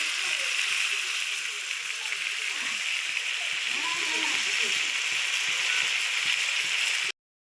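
Potatoes and meat fry with spices in a pan, giving a steady, close, broadband sizzle that runs unbroken for about seven seconds and then cuts off abruptly.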